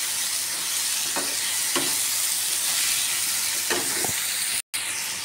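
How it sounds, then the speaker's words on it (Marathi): Chopped raw tomatoes cook in a pan over a low flame, sizzling steadily and close, with a few short stirring scrapes spaced across it and a brief dropout near the end. "आता सगळी मी ना एकजीव करून घेते"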